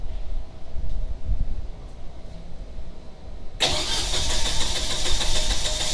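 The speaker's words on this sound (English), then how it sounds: "let's start up this Generac Protector Series" A Generac Protector Series 32kW standby generator sits quietly amid faint outdoor rustle, then cranks and catches abruptly, settling into a steady, fairly smooth running hum close by.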